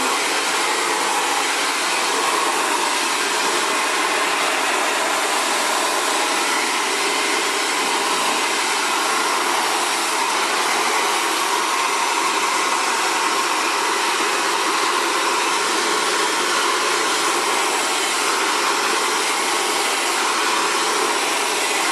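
An Xtava Allure professional ionic ceramic hair dryer blows on curly hair, producing a loud, continuous, even airy whoosh and motor whine that runs unbroken for the whole stretch, with no voices over it.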